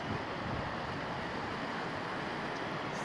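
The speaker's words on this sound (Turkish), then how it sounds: "Baksanıza şu güzelliğe ya. Şelaleni. Şelaleye bakın" A waterfall at a trout farm pours in a loud, steady broadband rush that stays unbroken and close to the microphone throughout, with no other clear sounds.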